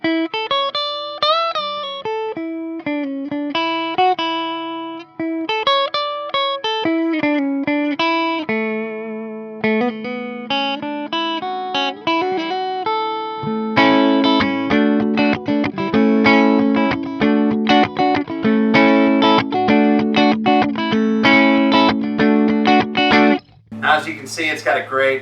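An electric guitar plays a distorted lead through a Reinhardt Sentinel amp head and Reinhardt 2x12 cabinet, bending notes and then driving into dense, loud riffs with heavy sustain.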